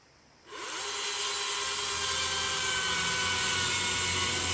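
DeWalt 60V battery-powered chainsaw cutting into a pine tree outdoors, starting up after a brief quiet moment and then holding a steady, loud, high-pitched whine without a break.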